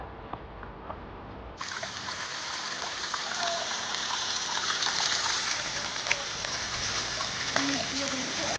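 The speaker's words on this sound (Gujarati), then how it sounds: "વરસાદ ચાલુ થઈ ગયો" Steady rain hisses down at Datar Hill, Junagadh, suddenly growing heavier after a moment and continuing as a dense, even patter with faint voices underneath.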